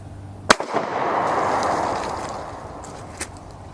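A gun is fired with an old shoe stuffed under its muzzle, giving a single sharp bang followed by a lingering rushing wash of noise outdoors, with a faint thump afterward.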